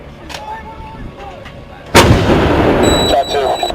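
An artillery gun fires once with a sudden loud blast about midway, followed by a rumbling roar and ringing tail, after quieter background sounds with faint voices.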